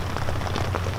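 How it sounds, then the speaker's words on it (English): Steady rain drums on a tent roof during a night of camping, a dense, constant patter close overhead with no voices. "First wave of rain."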